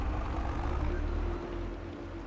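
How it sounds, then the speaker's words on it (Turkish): Tractor engine in the Farming Simulator video game, a steady low droning rumble while plowing a field, continuous and fairly prominent. "tarlayı bununla süreceğim biraz bakayım şu pulluk vurmadan."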